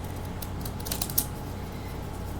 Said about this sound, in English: I'm going to use my decorative scissors.